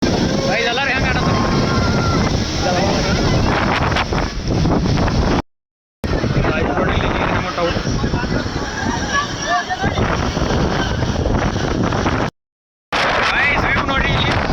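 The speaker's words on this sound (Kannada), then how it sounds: "ನೋಡ್ರಿ ಇಲ್ಲಿ ಗಾಳಿ ಮನಗಡೆ ಐತಿ." Strong wind roars across the microphone in the open hills near Amboli falls, a loud, constant buffeting rush that drops out briefly twice, with a voice talking under it.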